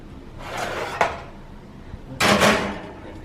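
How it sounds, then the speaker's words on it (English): An oven door is shut in a home kitchen with cakes baking inside, giving a sharp knock followed by a louder, longer clattering thud close by. "You want to help Mom shut the door?"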